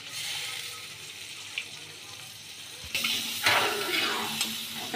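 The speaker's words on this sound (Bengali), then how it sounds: "দেবো অল্প একটু সামান্য জল।" A little water is poured into a sizzling pan of spiced cauliflower and egg curry (fulkopi and dimer jhol). Soft frying hiss gives way to a brief, louder splash and bubbling sizzle close by.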